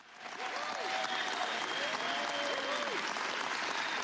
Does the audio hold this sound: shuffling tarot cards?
no